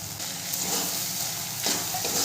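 Masala being fried and stirred with cashew paste for dhaba-style chicken bharta sizzles loudly and steadily, with scraping stirs and a couple of brighter bursts of spatter.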